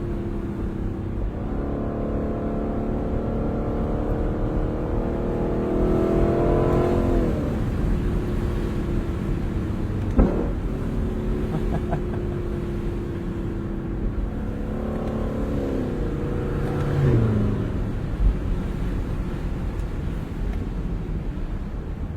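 A car engine pulls hard while driving, its pitch climbing in two long rising sweeps that each drop back as a gear changes, over a constant low road rumble, with no talk.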